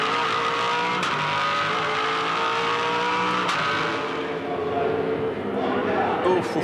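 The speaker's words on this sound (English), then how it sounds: "Big lock up here. Carried the brake a massive distance." A 2007 V8 Supercar at Eastern Creek Raceway locks up its brakes, loud engine roar and tire scrub sustained under continuous race commentary, with a brief squeal near the end.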